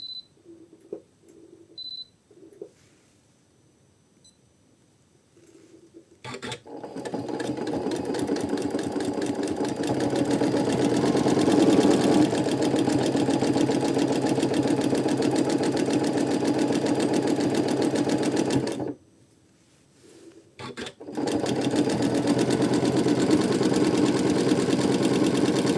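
A sewing machine stitches a quilted feather spine, starting with a few short taps before settling into a long, steady mechanical hum, pausing briefly, then running steadily again, close and clear.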